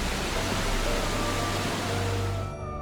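Roar of the Yellow River pounding through the Hukou waterfall, a dense, loud, continuous rush of churning water that holds steady throughout with no voices over it.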